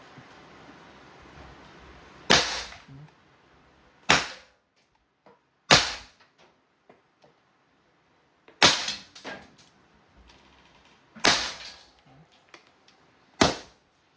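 Six sharp pops from an Umarex T4E TP50 CO2-powered .50 caliber pistol firing rubber balls at irregular intervals, each a crisp crack with a short tail, with faint handling rustles between shots.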